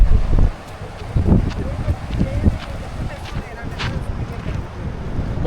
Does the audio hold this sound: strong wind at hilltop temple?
yes